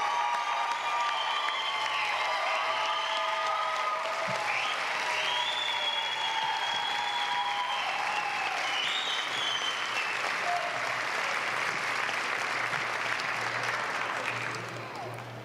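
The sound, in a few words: audience applause for graduates at a pinning ceremony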